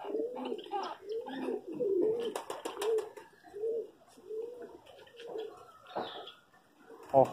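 Caged pigeons being fed grain coo softly and repeatedly up close in rolling, throaty phrases, with a few light chirps and a brief flutter mixed in.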